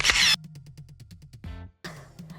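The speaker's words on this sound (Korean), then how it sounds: "찰칵!" A camera shutter clicks in a playful children's hide-and-seek scene: a loud burst opens, then a rapid, evenly spaced run of sharp ticks, a short whirring sweep, a brief gap, and a noisier tail.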